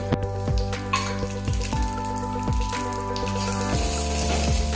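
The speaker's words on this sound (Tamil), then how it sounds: "இப்போ நம்ம பூண்டு வறுத்த அதே கடாயில் இந்த உளுந்தம்பருப்பை சேர்த்துக்கலாம்." Urad dal roasting in a kadai that was just used to fry garlic for poondu podi, a continuous close sizzle and crackle with repeated scraping strokes of a spatula at an even pace, and no voices.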